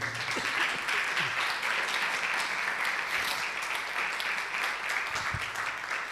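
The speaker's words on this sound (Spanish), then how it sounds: "Dale un aplauso fuerte al Señor." A church congregation applauds loudly and steadily, a dense sustained wash of clapping that fills the space with little variation, a few faint voices mixed in underneath.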